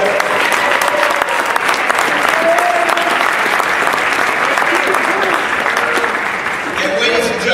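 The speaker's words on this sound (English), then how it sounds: "let's have one final round of applause" A crowd claps loudly at a college men's basketball senior-night ceremony, a dense, sustained roar of applause. Some voices and a few faint cheers ring out through the clapping.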